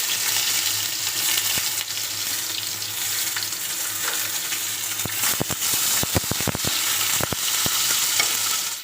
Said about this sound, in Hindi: पोटल आलू भाजीदबा